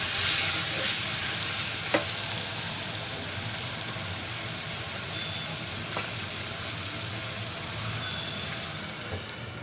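Ivy gourd (tindora) fries in oil with a steady, close, crackling sizzle that holds evenly throughout, broken by a few faint sharp clicks.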